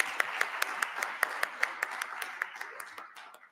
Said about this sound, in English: Let's give Commissioner Scales another round of applause.